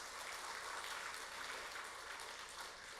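Steady applause fills a church as the congregation claps for two people, a dense, even wash of many hands holding at an unchanging level for a few seconds.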